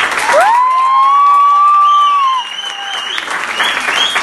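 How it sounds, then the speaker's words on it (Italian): Audience at an evening event gives a test round of applause and cheering, led by a loud, sustained shrill whistle at the start, followed by lively clapping and crowd noise. "Perché l'applauso che avete fatto era molto bello"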